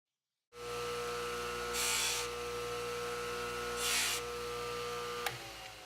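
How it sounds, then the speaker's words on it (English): Amazonite teardrop pendant being lightly smoothed on a motorized tool, a steady close electric hum with two brief louder rasping passes of stone against the abrasive, ending in a small click. "I can trim that tiny tip down a little bit. Give it a very slight smoothing."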